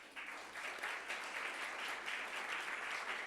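A round of applause at an awards ceremony for social enterprise pioneers, given for the judges: a steady, even patter of many hands clapping, fairly quiet and distant, with no voices over it.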